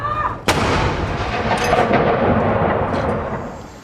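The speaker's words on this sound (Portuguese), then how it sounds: "Uma salva de 21 tiros de canhão marcou a chegada do rei Charles III a Edimburgo." Cannon salute of 21 guns fired for King Charles III's arrival in Edinburgh: a loud, sharp boom rolls out into a long, thunderous echo that fills the space with sustained rumble.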